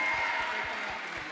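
Audience applause at a live community event in Ollolai, Sardinia, a brief burst of dense clapping with a few stronger low claps, fading slightly toward the end.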